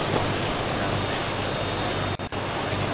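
Helicopter in the ArmA 2 video game gives a steady, loud rotor and engine drone, broken once by a brief dropout near the end.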